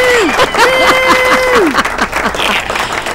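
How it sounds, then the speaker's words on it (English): Applause rises from a small gathering after someone is praised for winning a second-place trophy, a brief burst of clapping heard up close with some laughter mixed in. "he deserves a round of applause"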